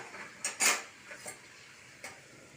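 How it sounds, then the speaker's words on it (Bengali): A lid set over a pot of bottle gourd after adding sugar, heard as a few light metallic clinks and one sharper clatter, then a final soft tap in a quiet kitchen. "এবার চিনি দিয়ে আর একটুখানি ঢাকা চাপা দিয়ে রাখলাম"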